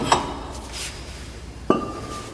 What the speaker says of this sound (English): Now the rotor will come right off.